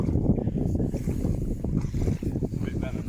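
Wind blows steadily across an open fishing lake at Barston Lakes, a continuous rumbling gust noise on the microphone with low buffeting throughout, fairly close and constant.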